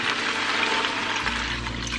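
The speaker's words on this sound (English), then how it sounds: "we're going to cover it with water" Water pours steadily into an Instant Pot over a chuck roast, a continuous rushing splash, close and alone, its pitch settling lower as the pot fills.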